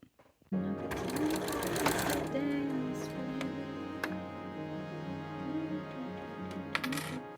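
A domestic sewing machine stitches seams on a Diane Von Furstenberg V2000 wrap dress, running in a steady, close, continuous whir after a brief quiet start, with a few light clicks near the end.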